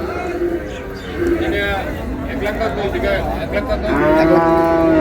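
A cross Friesian cow at a Dinajpur cattle market lows in drawn-out moos, with a louder one near the end, amid market chatter, other livestock calls and steady crowd noise.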